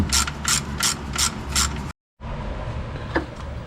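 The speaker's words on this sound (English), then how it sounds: "Tighten up the rest of these mounting bolts." Ratchet clicking rapidly while tightening alternator mounting bolts on a 2006 Mazda3 2.3L, five quick rhythmic bursts of close, crisp clicks, a brief silence, then steadier ratcheting noise.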